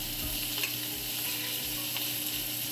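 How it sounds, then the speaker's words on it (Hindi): Chicken frying over high heat in a pan with a little olive oil, giving a steady, close sizzle with occasional stirring scrapes and no talking. "एक तेज़ हीट में पहले हमें चिकन को पकाना है"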